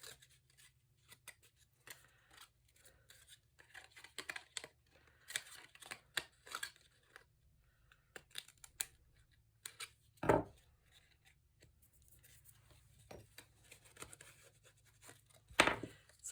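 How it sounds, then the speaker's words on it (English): Scissors trim the small excess edges off the bottom of a handmade Stamperia Spring Botanic gift box card, giving quiet, scattered snips with two sharper cuts standing out near the end. "I'm going to trim up these little extra bits on the bottom"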